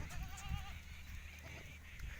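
A goat at a breeder's farm lets out a short wavering bleat near the start, with fainter bleats of other goats and low background noise after.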